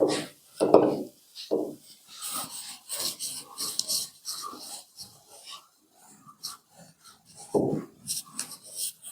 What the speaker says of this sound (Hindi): इसको यहाँ से रब कर देते हैं और फिर आगे बढ़ते हैं।